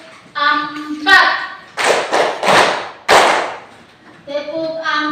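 Children in a classroom play the 'tepuk 4' clapping rhythm game, with loud, close bursts of hand claps in a quick pattern between chanted children's voices.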